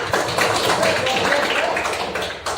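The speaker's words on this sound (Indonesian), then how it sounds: "tepuk tangan dulu" A classroom of students claps their hands during a Pancasila lesson. The clapping is dense, steady and fairly close, lasts a couple of seconds, and a few voices mix in underneath.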